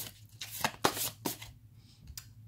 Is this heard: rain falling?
no